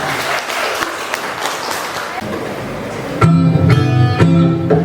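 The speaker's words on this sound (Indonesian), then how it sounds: "Berikan tepuk tangan yang luar biasa buat jingle agen perubahan" A school audience claps for a student jingle performance, a loud patter of hands that gives way to a tonal musical or vocal sound starting midway.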